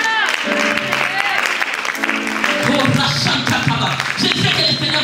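Congregation applauding during a French-language church sermon, a steady wash of clapping and crowd noise through the whole stretch, with voices and singing-like tones mixed in.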